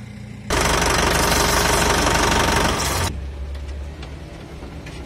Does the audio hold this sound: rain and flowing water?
no